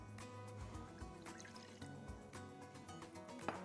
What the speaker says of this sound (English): pop in 6 tablespoons of white wine vinegar, 6 tablespoons of water